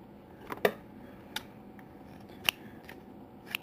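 Scissors cutting knitting yarn, a few sharp snips at irregular intervals against a quiet room background.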